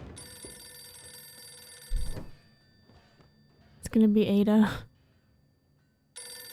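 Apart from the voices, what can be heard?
telephone ringing in a TV show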